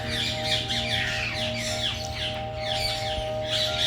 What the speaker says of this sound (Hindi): और ये अगला पक्षी है रोज़ रिंग पैराकिट जो कि भारत का ही है